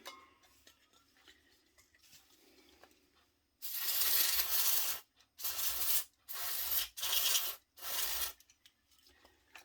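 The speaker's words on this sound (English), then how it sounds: "I've sprayed everything with this contact cleaner" Aerosol contact cleaner hisses in several separate sprays on a Triang Class 21 model locomotive. The bursts are loud and broadband, about five of them over roughly six seconds, with short gaps between them and quiet rustling before they start.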